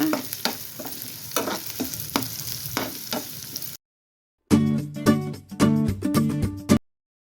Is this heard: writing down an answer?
no